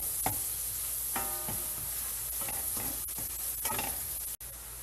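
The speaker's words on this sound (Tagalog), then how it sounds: "Pag nag-melt na yung ating butter, ilalagay na natin yan yung ating onion." Chopped onion sizzles steadily in melted butter for Pinoy-style beef stroganoff, with intermittent scraping stirs of a utensil against the pan, close up and alone.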